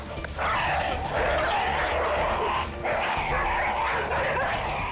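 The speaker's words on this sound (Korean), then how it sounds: "부딪히기만 하면 으르렁대는 말라뮤트와 진돗개" A Jindo and a Malamute snarling and growling up close in two heated bursts, with yips and scuffling noises between.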